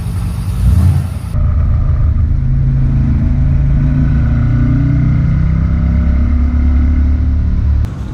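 An Iso Rivolta Lele from the early 1970s, powered by a 5.7-litre Ford Cleveland V8 making over 300 PS, driving fast with a loud, steady deep engine rumble and a brief surge near the start, alone without talk.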